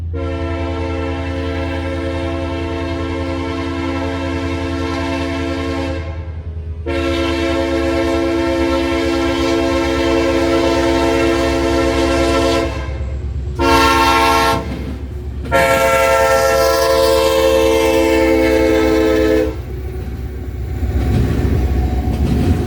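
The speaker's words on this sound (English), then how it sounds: "we would wait on eastbound intermodal train NS286, which would have SD70ACE UP8369 leading the way" Eastbound Norfolk Southern intermodal train NS286, led by Union Pacific SD70ACE locomotive UP8369, sounds a loud, sustained multi-chime horn in several long blasts with brief gaps, over steady diesel rumble and rail noise close by.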